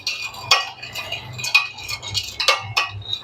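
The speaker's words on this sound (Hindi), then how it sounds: "1 चम्मच से इसको अच्छी तरह से मिक्स कर लेंगे" Metal spoon stirring yeast and sugar in a bowl, light clinks and taps at irregular intervals with soft scraping, close and fairly quiet, no talking.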